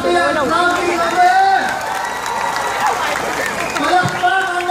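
A crowd in Victoria claps and cheers for Noven Belleza at a thanksgiving gathering, a steady wash of applause and shouts running the whole time beneath a loud voice calling out.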